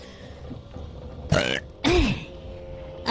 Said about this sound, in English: Tiny burp.